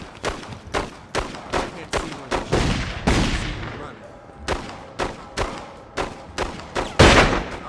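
Repeated gunfire in The Godfather 2 video game, with more than a dozen sharp, loud shots at an uneven rhythm and a few heavier blasts mixed in, and game voices faintly beneath.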